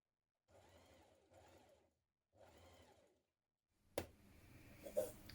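A sewing machine stitches dress fabric in three steady runs of mechanical whirring separated by short pauses, followed by a few sharp clunks and handling knocks close by.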